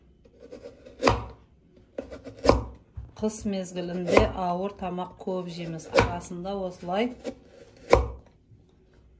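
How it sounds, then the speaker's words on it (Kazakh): A knife thinly slicing carrots on a board, with a handful of sharp, separate chops spaced a second or two apart, partly under someone speaking. "Осылай бірінші очередте сарымызды турап аламыз, жұқа-жұқа етіп."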